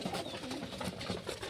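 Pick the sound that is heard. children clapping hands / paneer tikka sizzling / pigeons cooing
pigeons cooing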